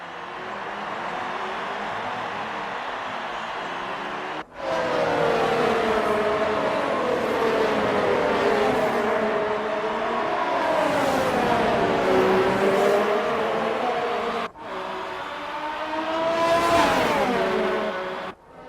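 F1 race cars from the video game F1 2019 roar through the final corners of a replay, their engines rising and falling in sweeping revs, loud and continuous with two brief cuts.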